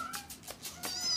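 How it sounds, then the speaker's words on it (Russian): A cat meows several times in quick succession, short rising cries close by and clear, with no talk over them. "Я думала, ей нравятся коты."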